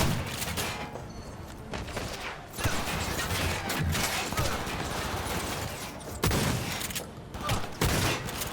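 Sustained gunfire rattles through a Cyberpunk 2077 firefight, dense bursts and mechanical clatter running almost continuously with a few sharper blasts, loud and close, with no talking.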